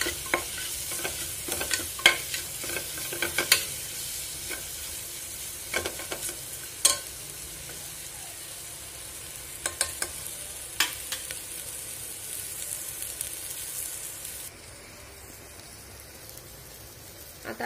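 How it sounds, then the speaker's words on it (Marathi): Mustard seeds, homemade masala and red chili frying in hot oil over full flame, a continuous crackling sizzle with sharp spattering pops and stirring clinks, close and fairly quiet, easing toward the end. "आता हे याच्यामध्ये टाकू, फुल फ्लेमवरती हे परतून घेऊयात"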